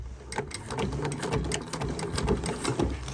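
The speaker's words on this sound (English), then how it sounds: "now we're going to sew this edge, and we're also going to sew this edge. So again, with the back stitch," A sewing machine back stitches along the edge of a fabric dopp kit bag, running with a steady, loud, close rattling hum and quick rhythmic needle strokes throughout.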